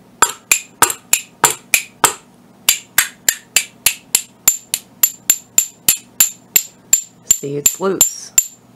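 A pair of spoons played as a percussion instrument, held in a loose-and-tight grip, rattles out a steady run of sharp, bright clicks close by, followed by a brief rolling flurry near the end, with a short spoken remark early on.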